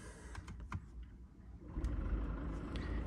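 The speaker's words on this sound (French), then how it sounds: "on va démarrer la voiture." A BMW 4 Series Cabriolet diesel cranks and catches with a few clicks, then settles into a low, steady idle rumble, fairly quiet and close.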